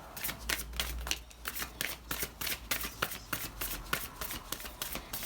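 Tarot cards are shuffled by hand in steady, rapid riffling and slapping strokes, close and moderately loud with no talking.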